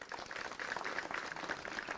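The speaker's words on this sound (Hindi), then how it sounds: "एक बार फिर से तालियां बजा दीजिए।" A quiz show audience in Mathura, Uttar Pradesh applauds a farmer who answered correctly: steady, fairly faint clapping from a crowd, lasting the whole brief moment.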